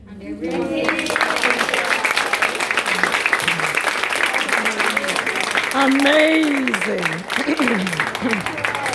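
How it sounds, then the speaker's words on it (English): Audience applause for Star Master Rebecca Wong at a motivational speaking event, a steady wash of clapping throughout with a speaker talking and cheering over it. "Let's please give a round of applause for our star Master Rebecca Wong"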